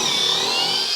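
A power drill backs a screw out in one short continuous burst, a loud, close, high whine with nobody talking.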